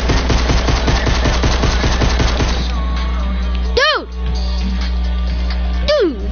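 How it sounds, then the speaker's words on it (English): Gunfire in Fortnite Save the World, a fast, regular burst of shots rattling loudly for the first few seconds over a constant hum, followed by two sweeping tonal effects, with a voice talking over it. "Yeah, they're shooting."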